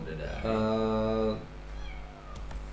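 A kitten trapped inside a pipe gives one loud, drawn-out meow close by, followed by quieter background noise.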